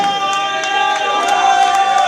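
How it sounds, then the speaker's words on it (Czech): Crowd at a school graduation ball cheers and claps for the winning bidders of a beer-keg auction, a loud, continuous wash of applause and shouting that fills the whole moment. "Potlesk pro ně."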